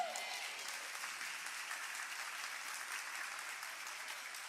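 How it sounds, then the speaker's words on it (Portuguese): A church congregation breaks into applause during a sermon, a steady, dense wash of clapping from many hands that holds evenly for several seconds, with no talking. "Dê um aplauso a Jesus"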